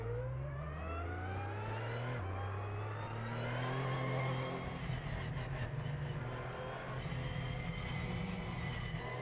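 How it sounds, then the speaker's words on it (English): A Porsche engine in a VR racing simulator game idles and then pulls away slowly, with a steady engine drone whose pitch climbs gradually, stepping once at a gear change before rising again. "Right, he's gone, so let's get into gear. Just moving out slow."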